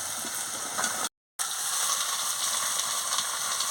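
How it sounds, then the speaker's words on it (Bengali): Ridge gourd slices frying in oil with potato and pointed gourd, a bright constant sizzle close up, interrupted by a short silent gap before resuming. "এবার আমি ভালো করে ঝিঙেটাকে ভেজে নিচ্ছি আলু আর পটলের সঙ্গে"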